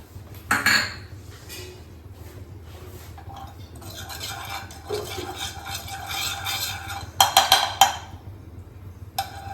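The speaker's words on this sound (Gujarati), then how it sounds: "એમાં આપણું જે બીજું ઘી છે બાકીનું એને એડ કરીશું અને આપણે ડ્રાયફ્રૂટ થોડા હળવા હળવા એને શેકી લઈશું." Dry fruits roasting in ghee in a pan for bottle-gourd halwa, stirred with a metal spoon: intermittent clinks and scrapes against the pan, softer stirring in between, and a cluster of louder clatters near the end.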